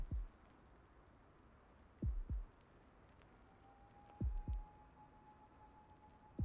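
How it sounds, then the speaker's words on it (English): Heartbeat effect from a giantess dating sim video game: slow, muffled double thumps repeating about every two seconds, low and soft over a faint steady hum, with no talking. "I don't know how long the game's gonna make me wait here listening to my own heartbeat for me to make this decision"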